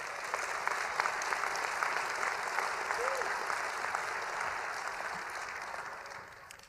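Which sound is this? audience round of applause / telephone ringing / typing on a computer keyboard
audience round of applause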